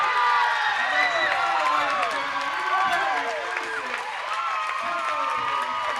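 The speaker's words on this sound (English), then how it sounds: "You hear the crowd." Crowd roaring and cheering in a high school basketball gym at the final buzzer of a state tournament semifinal, with shouts and whistles sustained at full volume throughout.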